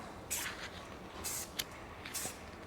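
Three short hissing bursts of spray paint onto a Jeep JK Dana 30 front axle, each under a second, separated by brief pauses against a quiet background.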